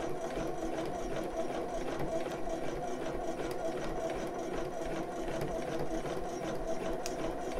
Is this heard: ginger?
no